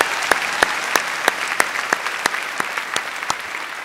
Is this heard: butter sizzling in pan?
no